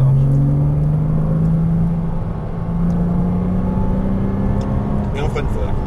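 Porsche Cayman S engine pulling steadily on a race track at Fontenay-le-Comte, a continuous rising drone with rumble, heard from inside the car as the driver eases off and accelerates again while an instructor talks over it.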